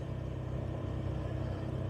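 Vehicles pass over a road near a bridge, a steady low engine rumble and tire noise that stays constant and moderately close throughout.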